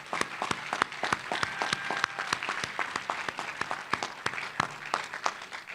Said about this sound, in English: let's give all of our SURCA presenters a big round of applause